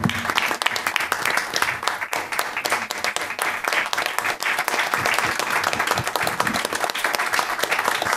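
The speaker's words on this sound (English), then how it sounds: "If Sabarino's applauding," Dense, steady applause from a meeting audience at a board of selectmen session, loud and sustained throughout with no talking over it.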